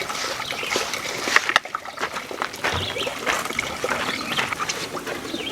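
Water from a milk pitcher splashes and trickles over a dog, a steady wet pouring and dribbling sound up close with a brief louder splash partway through.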